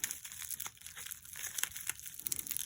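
Crinkling and tearing of packing tape and wrapping while a taped-up mail package holding a circa 1805 diplomatic button is opened, close and steady with sharp crackles throughout.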